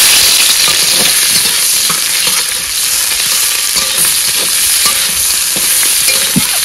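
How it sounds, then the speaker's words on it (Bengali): Dried red chillies fry in a hot pan, giving a loud, steady oil sizzle broken by light scraping and stirring clicks throughout. "লঙ্কা ভাজা হয়ে গেছে, ঠিক আছে এবার তুলে দিলাম।"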